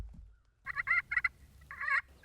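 Wild turkeys gobble on a wooded ridge in a few quick, rattling bursts, moderately distant and clear against a quiet background.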